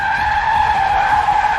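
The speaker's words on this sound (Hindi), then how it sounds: "जैसे ही गाड़ी में ब्रेक लगती है" A car brakes hard with a sustained, loud tire skid, a steady screeching squeal held throughout without a pause.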